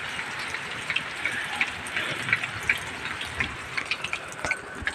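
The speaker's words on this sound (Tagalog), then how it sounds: "Ulan na guys." Steady rain falling on a roof, a dense continuous patter with scattered louder drops, fairly faint and with no one speaking.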